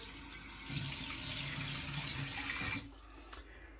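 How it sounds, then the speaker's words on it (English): A sink tap runs steadily as water is splashed onto the face before a wet shave with a wedge razor, a close, full rush that stops abruptly near the end, leaving quiet room tone. "Get some water on the face here."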